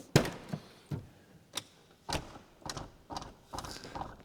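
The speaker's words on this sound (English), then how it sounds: "That knocking noise is the door hitting the striker plate" Rear door of a Lotus Carlton, slightly out of alignment, knocking against its striker plate: a series of about seven sharp, hollow thunks spaced unevenly over a few seconds, close by with quiet gaps between.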